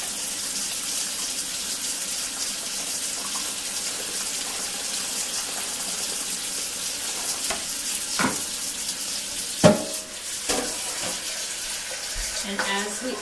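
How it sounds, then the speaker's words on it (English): Hot tap water runs into a bucket, a steady broadband splashing and rushing with a few louder clunks and splashes near the end, and no voices over it. "I'm going to add hot water to fill the bucket up to about here. And this is just hot tap water"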